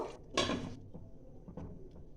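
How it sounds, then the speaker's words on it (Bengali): Dishes clatter as a cooking pot is stirred and its lid is set on while potol cooks in curd, with a sharp metallic clank near the start and a few softer knocks afterwards, close by and without talk. "এটা আমি নাড়াচাড়া করে 1 মিনিটের মতন ঢেকে রাখবো"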